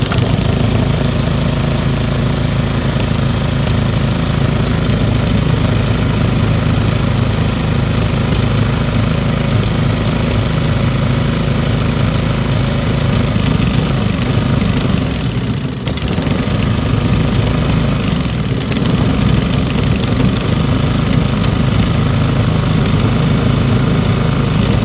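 An old Briggs small engine, salvaged from the trash and now running hot, idles loudly and steadily up close with a constant throbbing rumble and a brief dip midway.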